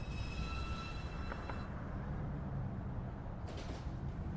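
A New York City subway 2 train runs at Beverly Road station with a low, steady rumble of wheels and motors and brief high tones and squeals over it, no voices heard.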